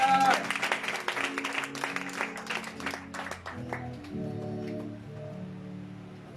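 A church congregation applauds and cheers in praise of the Lord, loud dense clapping at first that thins out as music and voices carry on beneath.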